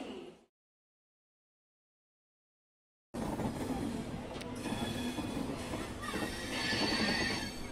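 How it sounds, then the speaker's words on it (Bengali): The Patna Howrah Jan Shatabdi Superfast Express pulls out of Howrah. A brief noise and a few seconds of silence give way to a loud, steady rolling rumble with faint wheel squeal. "ট্রেন এখন হাওড়া ছেড়ে যাচ্ছে"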